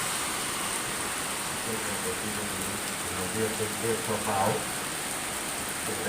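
Steady hiss of rain falling throughout, with faint voices murmuring underneath.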